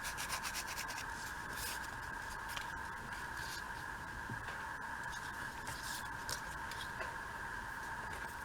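Paper edges being distressed by hand for a craft pocket, a quiet repeated rubbing and scraping in short strokes, close and faint with no talk.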